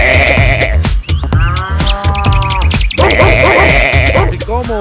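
A flock of sheep in the Sicilian countryside near Trapani bleats loudly and continuously, several animals calling over one another close by with overlapping wavering cries.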